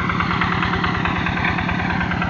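A tractor engine runs in a rice paddy field, a steady, loud, close chugging with an even rhythmic pulse and no breaks or voices.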